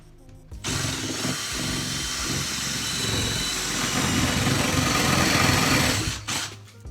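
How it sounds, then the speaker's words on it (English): A power drill bores a hole into the corner of a wooden door jamb, giving one loud, steady whirring run of about six seconds with a sharp start and stop. No voices. "I'm going to drill a hole in the corner of the door jamb so I have some place to start my saw"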